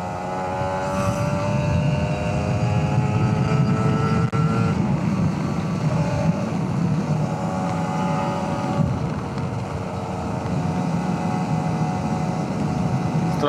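A two-stroke RR150 motorcycle on a long road ride, its engine droning steadily with buzzing harmonics under constant loud wind rush that holds for the whole stretch, with no voices.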